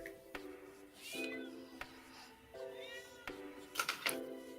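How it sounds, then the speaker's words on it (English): A house cat meows several times in the background, drawn-out rising cries spaced a second or so apart, moderately faint, alongside occasional clicks and a steady tonal hum. "Is there a cat in the background?"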